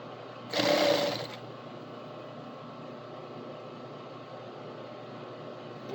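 A sewing machine whirs in one short, loud burst of under a second while top stitching an edge, followed by a quiet, steady background hum.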